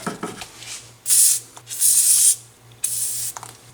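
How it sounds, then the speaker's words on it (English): Nut Blaster penetrating oil hisses from an aerosol can onto a rusted ball joint in three close spray bursts, each lasting about half a second, separated by brief pauses. "let's try a bit of that nut blaster stuff and see if that'll loosen up."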